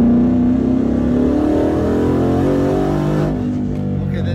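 Twin-turbo 2019 Mustang GT accelerating in fourth gear, engine note climbing steadily and loud inside the cabin before easing off near the end.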